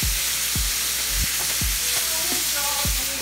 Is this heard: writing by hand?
no